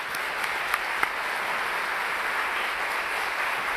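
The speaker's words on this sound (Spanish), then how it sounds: "Le damos un fuerte aplauso y la bienvenida a nuestra invitada" Audience applause welcoming a guest, Chilean deputy Camila Vallejo, at a political event: a steady, dense wash of many hands clapping at moderate level throughout, with a few sharper claps standing out near the start.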